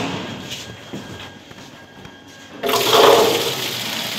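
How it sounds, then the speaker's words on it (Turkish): Hot boiled chickpea hummus pours into the cauldron of a 72-litre tilting hummus machine, a sudden loud rushing splash starting partway through after a quieter stretch of background noise. "sıcak bir şekilde humusumuzu kazana koyduk"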